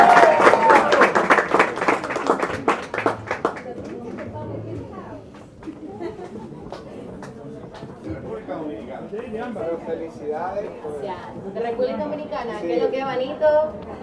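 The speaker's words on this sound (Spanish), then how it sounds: "Un fuerte aplauso" An audience bursts into loud applause for a singer at a televised entertainment show, the clapping strong for several seconds and then fading under chatter and talking voices.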